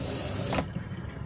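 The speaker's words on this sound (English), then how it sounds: "wait for the pump to come on, there you go" Hot water gushes from the tap of a Laika Ecovip motorhome as the pump runs, a steady close rushing stream that cuts off partway through and leaves a quieter background, with no talk.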